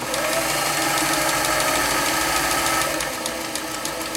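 An Elna Supermatic Star 62C sewing machine sews a zigzag stitch, running at a steady fast rhythm with a continuous whirring hum and rapid needle ticks, close and loud, slightly easing near the end.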